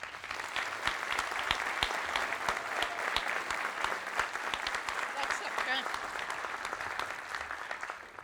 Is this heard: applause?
yes